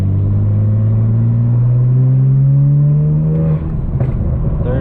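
Loud, close engine drone of a turbocharged BMW 335xi with a six-speed manual, tuned to MHD Stage 2 Plus, pulling hard in third gear, pitch rising steadily before easing off near the end.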